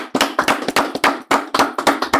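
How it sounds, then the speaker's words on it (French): Applause from a production crew and studio audience, a steady run of sharp, close hand claps lasting a couple of seconds with no talk over it. "On applaudit."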